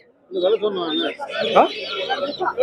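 Fighting roosters at a busy chicken market give loud, close clucks and squawks, with voices mixed in among the birds.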